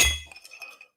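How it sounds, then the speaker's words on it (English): A glass rings with a sharp clink as a Sazerac cocktail goes into it, followed by a few fainter, quick tinkling ticks that die away within a second. "pour the Saz-Ac into the glass"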